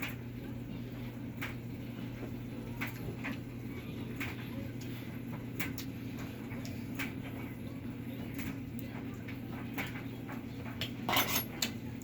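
Big spoon scraping and clinking against a bowl while mixing deviled egg filling, a steady low background hum under repeated soft metallic taps and scrapes, with a louder clatter near the end.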